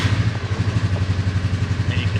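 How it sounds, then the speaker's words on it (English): A 2021 Polaris Ranger 500 UTV engine runs with a steady low, pulsing idle chug, loud and close, with no other sounds over it. "And you step on the brake to start it"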